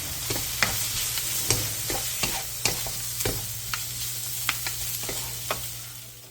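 Imitation crab sticks stir-fried in a pan, a continuous close sizzle with repeated spatula scrapes and taps at an uneven rhythm, with no talking.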